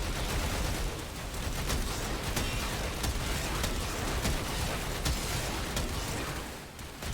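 A charge weapon firing in Warframe, a dense barrage of sharp reports and crackling blasts that stays loud and steady throughout, no voices over it.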